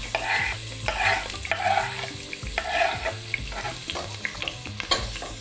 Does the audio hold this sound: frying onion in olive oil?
yes